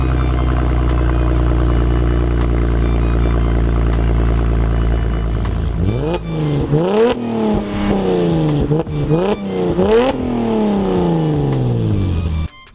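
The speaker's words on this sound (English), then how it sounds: "a complete exhaust system from the C63 AMG version and use it on your car, which will sound like this if you have a 6-cylinder engine" A Mercedes C-Class W204 six-cylinder fitted with a full C63 AMG exhaust drones loudly at steady revs, then rises and falls through several sharp throttle blips before cutting off abruptly.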